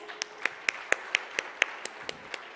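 Sparse, evenly spaced claps from a conference audience at a DeepTech/Govtech innovation conclave, about a dozen sharp individual claps rather than full applause.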